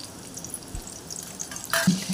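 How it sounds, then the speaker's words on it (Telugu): Onions frying in oil in a pan, a soft, steady sizzle heard close up, with a louder burst of crackling and a stirring clatter near the end. "నూనె వేసుకున్న తర్వాత ఆనియన్స్ వేసుకోవాలి ఫ్రెండ్స్."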